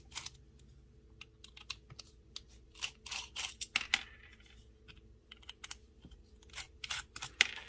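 Small screwdriver and metal parts clicking and scraping as a Strider SNG frame lock knife is taken apart, its pivot and body screws removed: dense bursts of close, sharp ticks and rattles with short pauses, no voice.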